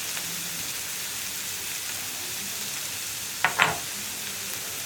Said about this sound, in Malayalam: നമ്മുടെ സവോളയൊക്കെ ഒന്ന് കുക്കായി വരുന്ന അത്രയും നമ്മളൊന്ന് വഴറ്റിയെടുക്കുക